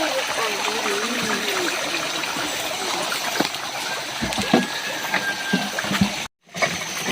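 Water runs steadily through a rural provincial channel used for washing, a continuous trickling, splashing flow heard close by, with a brief dropout near the end.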